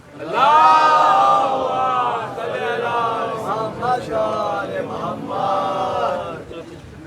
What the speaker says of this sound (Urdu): ایک اور نعرے سلوات پڑھیں